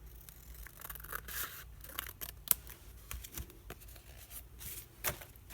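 Scissors snip through paper while a quote easel craft project is trimmed and assembled, a few short close cuts with light rustling and handling noises in a quiet room.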